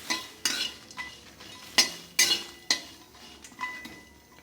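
Green chillies and whole spices being lightly roasted in a pan, with a spoon stirring and scraping against the metal in a few sharp clinks and sweeps over a faint background sizzle.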